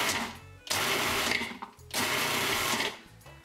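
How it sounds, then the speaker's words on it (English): A food processor pulses chunks of onion for a bhuna masala in two short, loud whirring bursts, each cutting off sharply with a brief pause between them. "give it a quick pulse in the food processor"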